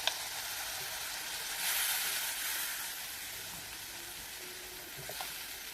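A steady, fairly quiet sizzle and hiss comes from ginger, garlic and green chili paste frying in a pan with ground onion for a prawn malai curry, swelling briefly then settling, with no talking.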